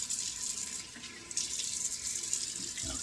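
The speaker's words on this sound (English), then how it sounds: "I want to splash on some cold water" A bathroom sink tap runs steadily while cold water is splashed, a soft continuous hiss and patter at low level with no talk over it.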